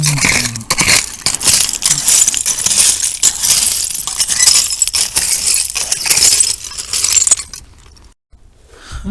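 Old Pepsi bottles and broken glass clink and scrape close up as someone digs through a Kinston bottle dump, busy and steady before dropping away to near quiet at the end.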